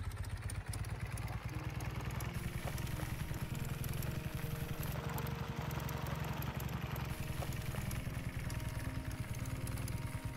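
Motorcycle in the farming game Farmer's Life, its engine idling and chugging steadily at a low, rough pitch throughout, moderately loud with no voices over it.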